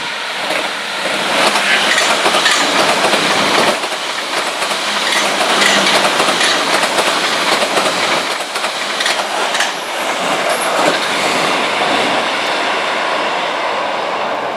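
Train passing beneath a footbridge at Wimbledon, a loud close rumble with clattering wheels and rail noise that swells and dips over the whole stretch, with no talk.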